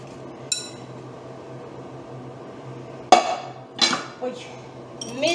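Potatoes dropped into a pot for a chicken and vegetable tajine, giving a few sharp clinks and knocks against the cookware over a low steady hum, spaced out with a cluster of clatters toward the end.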